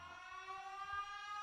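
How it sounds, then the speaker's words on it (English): A siren sound effect played on a sports podcast: a steady, wailing electronic siren tone, fairly quiet and held evenly with no voices over it. "let's go ahead and put the siren on"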